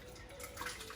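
Thick tomato sauce for baked ziti is poured back into a cooking pot, a brief, faint, wet slosh and drip with no talking.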